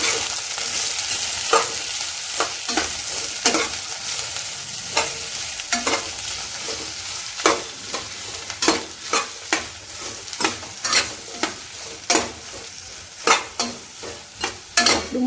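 Okra sizzles in an oiled pan on low gas while a spatula scrapes through it in repeated, fairly regular strokes that grow more frequent toward the end, close and clear with no talking.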